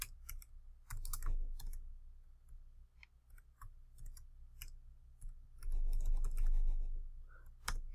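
Close computer keyboard typing in quick irregular bursts of clicks, with brief pauses between words and a clattering flurry near the end, no speech.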